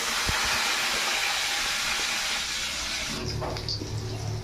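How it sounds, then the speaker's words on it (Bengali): Potatoes dropped into a hot pan of oil with panch phoron sizzle loudly in a steady, broad hiss for about three seconds, then the sizzle settles lower with some stirring clatter in a home kitchen. "এবার আলুগুলো দিয়ে দেবো।"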